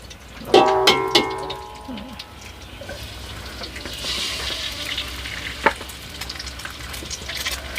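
Pad thai noodles stir-fried over a strong flame on an old wood-fired stove, opening with loud clattering strikes of the utensil against the pan, then a continuous crackling sizzle with occasional knocks.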